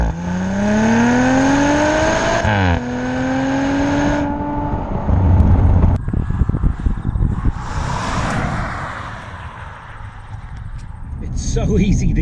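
A 2019 Audi RS 5 V6 launching hard from 0 to 100 km/h, its engine note climbing loudly through the revs with a quick gear change, then rising again before giving way to wind and road roar.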